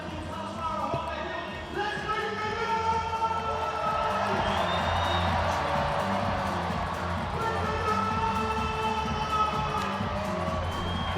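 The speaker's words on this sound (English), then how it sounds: "He's brought the crowd right back into the game because of this." Cricket crowd at a Hundred match between Welsh Fire and Trent Rockets roaring after a six, a sustained loud wash of cheering with a commentator talking over it.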